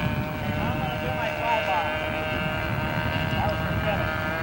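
A radio-controlled model airplane makes a steady, buzzing engine drone as it flies straight down the runway on a pass at a model aviation event, fairly loud throughout with wind and a voice talking over it.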